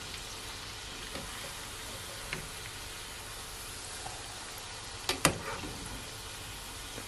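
Plantain slices frying in hot oil give a soft, steady sizzle close by, with a couple of light clicks and clatters near the end.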